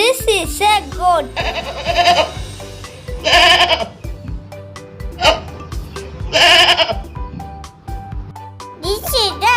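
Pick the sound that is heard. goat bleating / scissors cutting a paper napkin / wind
goat bleating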